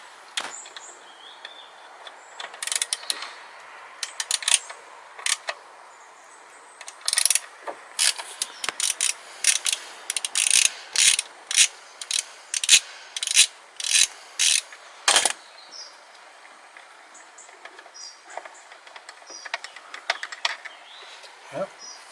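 A ratchet tightens a bolt on the drive cover of a Piaggio Leader-engine scooter, giving close, sharp bursts of clicking in quick runs, separated by short pauses and fading off toward the end.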